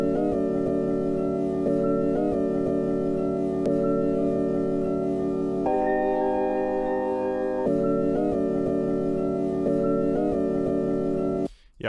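A sample of a Russian jazz ensemble, rechopped into 6/8 time, plays as sustained harmonic chords that shift in blocks, with a brief changed section in the middle before the loop returns and cuts off sharply at the end.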